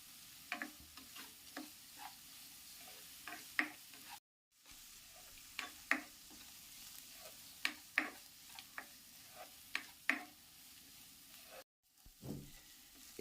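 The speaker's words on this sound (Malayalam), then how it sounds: "കുറച്ച് ഉപ്പിട്ട് കൊടുത്ത ശേഷം നമുക്കൊന്ന് വഴറ്റിയെടുക്കാം." Onions and green chillies sauté in a pan with salt, a soft steady sizzle under scattered clicks and scrapes of a spoon stirring against the metal, brief pauses breaking the rhythm, close and fairly quiet.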